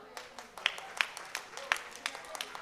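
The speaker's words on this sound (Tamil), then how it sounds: "உங்களது கரகோஷத்துடன்" Scattered clapping from an audience at a prize presentation, light and uneven, a handful of sharp claps spaced out over a few seconds rather than full sustained applause.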